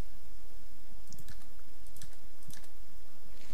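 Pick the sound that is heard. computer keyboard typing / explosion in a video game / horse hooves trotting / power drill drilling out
computer keyboard typing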